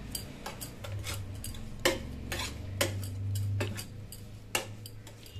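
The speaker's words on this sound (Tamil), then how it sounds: "பொடியாக கட் பண்ண கொத்தமல்லி கருவேப்பிலை இதையும் நல்லா அடிச்சுக்கணும்" Eggs being beaten with finely chopped coriander and curry leaves for a flower omelette, a fork or spoon clicking rhythmically against a bowl in quick repeated strokes, close and fairly quiet, with a low background hum.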